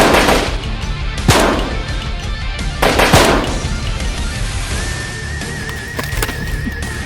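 Two sharp gunshots about two seconds apart ring out over a constant loud noisy background, followed by a steady warbling electronic tone.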